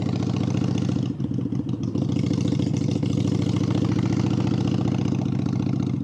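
A Harley-Davidson motorcycle idles outdoors on a sunny day in Virginia Beach, its loud, close engine making an even, throbbing low rumble that runs without a break.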